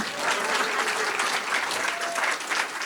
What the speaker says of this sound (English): Keep the hands going